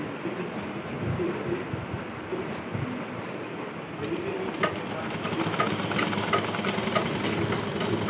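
Sewing machine stitching a folded seam on a ghaghra skirt, a rapid mechanical whirring rattle that grows busier and more insistent in the second half, close and continuous.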